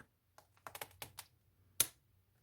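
A few light, sharp clicks and taps in a quiet room as a glass score is run over paper towel, followed by one crisper, louder snap near the end.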